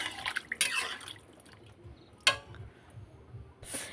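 Water poured into a simmering curry of potato and catla fish, giving short bursts of splashing and trickling between quieter moments, close by with no voices.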